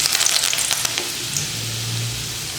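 Fenugreek seeds and curry leaves sizzling and spitting in hot oil, a dense loud crackling hiss up close with sharp pops early on, settling into a steady fry with a low hum underneath.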